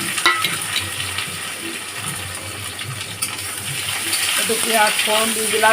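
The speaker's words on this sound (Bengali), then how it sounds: "এবার একটু পেঁয়াজ ফোড়ন দিয়ে দিলাম" Onion and bay leaf fry in hot oil in a home kitchen, giving a bright, steady sizzle with scattered clinks and stirring noises close by throughout.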